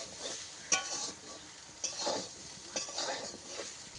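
Fish curry with cumin paste and green chillies is stirred in a pan, soft scraping strokes and occasional utensil clinks against the pan over a faint sizzle, repeating every second or so.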